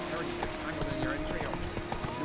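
Roach, a horse in The Witcher 3, trots with quick steady clip-clop hoofbeats over continuous game background sound, with a voice talking over it.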